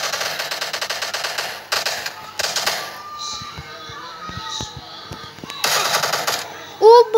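Rapid automatic gunfire in an online shooter game, bursts of fast repeated shots separated by quieter gaps with scattered single pops, played loud near the microphone.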